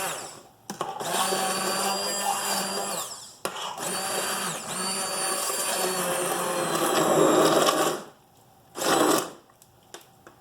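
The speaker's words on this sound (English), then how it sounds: "some people call it a stick blender, but this is really a great tool for quickly pureeing a soup" A handheld stick blender whirs loudly and steadily for several seconds pureeing tomato soup, briefly pausing, then running again before cutting off, followed by one short final burst.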